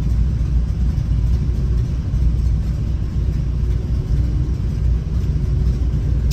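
A group of Harley-Davidson motorcycles passes on a roadtrip to a Germany super rally, a steady, loud low engine rumble that stays constant throughout with no voices.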